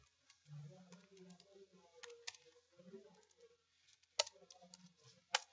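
Keystrokes on a computer keyboard come in quick light clicks, with a couple of sharper taps near the end, faint and close under a soft murmuring voice.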